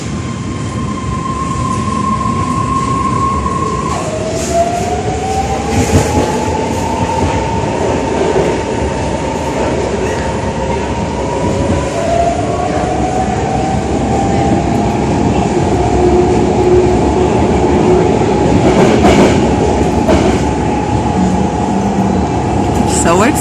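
A San Francisco train rolls along with a steady loud rumble, whining wheel tones that shift in pitch, and occasional squeals and clunks.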